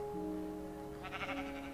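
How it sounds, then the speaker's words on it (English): A Minecraft sheep lets out a short, wavering bleat, heard clearly over a steady background hum. "Oh, there's our sheep."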